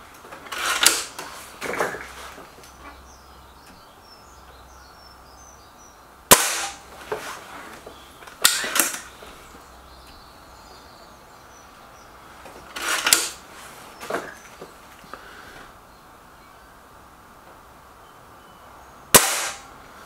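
Gamo Whisper Sting air rifle fired outdoors: several single sharp cracks spaced a few seconds apart, each followed by a faint metallic after-sound, over quiet background with distant birds.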